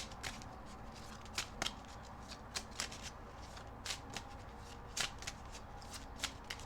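Tarot cards are shuffled by hand, soft papery riffles and taps repeating in quick irregular bursts, close and fairly quiet with no talking.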